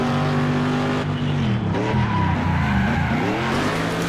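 Car cornering in the racing game Next Car Game: a loud engine drone that dips and swoops in pitch as tires squeal and skid through the turn, continuous and close, with no talk.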